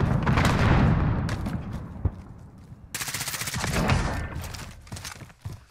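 Rapid bursts of gunfire from a shooter video game, dense automatic fire at close range with a sharp crack near the middle, then a second loud stretch of repeated shots that thins out toward the end.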